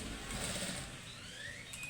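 Sewing machine stitching a short tuck on an unlined blouse, a faint, steady mechanical whir with rapid needle clatter that runs briefly, then tails off.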